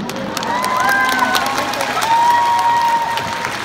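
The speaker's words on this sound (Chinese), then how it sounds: "谢谢各位的掌声。" A concert audience in a large arena claps and cheers in a dense, continuous wash of applause while a singer's voice talks over it.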